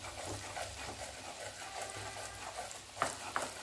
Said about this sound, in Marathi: तूप गरम झालेलं आहे, त्याच्यामध्ये हा रवा टाकून घेऊया।